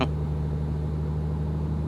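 A steady, low bus engine drone in Euro Truck Simulator 2 hums continuously with a constant pitch, like a vehicle cruising, with no talking over it.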